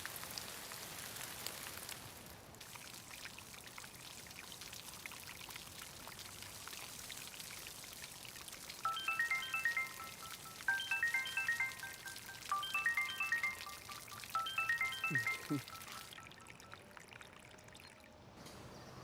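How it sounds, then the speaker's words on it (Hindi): A faint, steady wash of water poured onto potted plants plays against a quiet background. Partway through, a repeating electronic phone ringtone chimes in several bursts before fading out. "मैं तो पौधे में पानी डाल रही हूँ।"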